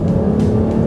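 A 2012 Chrysler 200 with the Pentastar engine revs hard, a loud, deep, steady engine drone heard close up throughout.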